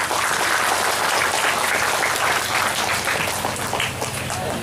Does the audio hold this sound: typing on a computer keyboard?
no